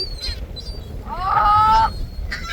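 Beach birds honk close by, a loud goose-like call swelling in the middle against outdoor wind and background noise, with fainter squawks before and after.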